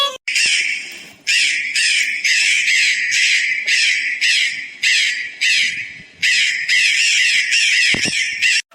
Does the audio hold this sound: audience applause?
no